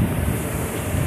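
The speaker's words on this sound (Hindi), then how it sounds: "इतनी तेज़ हवा चल रही है" Strong wind roars during a dust storm in Karachi, a dense, steady rush of broadband noise buffeting close to the microphone for a brief moment, with no voices.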